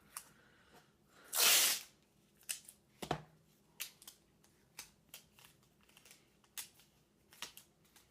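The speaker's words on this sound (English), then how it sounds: "I'm going to go ahead and rip some more off and put it on the side of the table" Tape ripped from a roll in an armature-building workspace: one loud, long tearing rip, then a run of short, quieter crackles and snaps as strips are pulled and handled.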